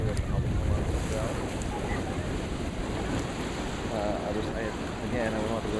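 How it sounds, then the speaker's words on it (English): Ocean surf at Tikehau Atoll in French Polynesia, a constant wash of waves mixed with heavy wind buffeting the microphone, filling the scene loudly while a voice talks faintly beneath. "Here's the ocean."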